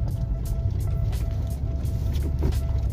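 A manual transmission car pulls away as the clutch is released, its engine droning low and steady from inside the cabin with a faint rhythmic ticking over it.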